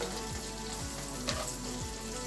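Onions frying in a pan, giving a low, even sizzle with a faint scrape near the middle, quiet and brief.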